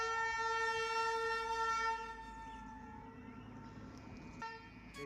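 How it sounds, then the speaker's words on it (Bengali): The Darjeeling toy train sounds its horn in a sustained, tonal toot heard at moderate distance, louder at first and then softening as it moves on, with a brief second blast near the end and no talking. "এখান থেকে টয় ট্রেন যাচ্ছে দার্জিলিংয়ে রুমের থেকে।"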